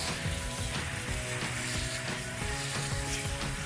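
Water spraying and rinsing through a K&N air filter, a dense continuous hiss and splatter heard up close and steady throughout.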